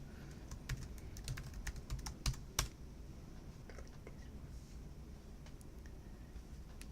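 Password typed on a Mac keyboard, a quick run of crisp key clicks in an irregular rhythm, close and clear, trailing into quieter scattered taps and then near silence.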